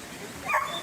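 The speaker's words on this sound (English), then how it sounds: "Oh, there's another dog." A dog gives a single short yip or bark on a hiking trail, brief and moderately near over faint outdoor background.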